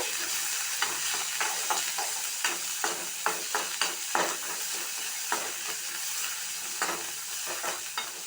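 Onions, green chillies and curry leaves frying in oil for a rava uttapam tempering, a steady close sizzle broken by repeated scraping stirs of a spoon against the pan, with no talk.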